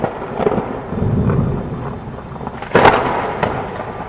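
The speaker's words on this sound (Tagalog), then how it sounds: "nakarinig kami ng malakas na kulog at kidlat." Thunderstorm with rolling thunder that rumbles low at first, then cracks in a louder, sharper peak near the end, with rain hiss underneath.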